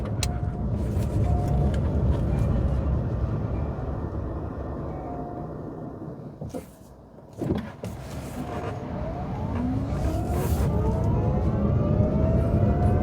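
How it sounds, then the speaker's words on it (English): Electric motor of a BAW Pony quadricycle, mounted under the rear seat, driving and picking up speed: a steady whine over road noise inside the cabin, with a brief dip mid-way and rising tones later. "You can hear the motor a fair bit, but it's right at the back of the car, sort of underneath the back seat"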